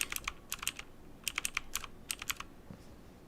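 Computer keyboard arrow keys tapped in quick clusters of sharp plastic clicks, several rapid presses per burst with short pauses between, close and fairly loud with no talking.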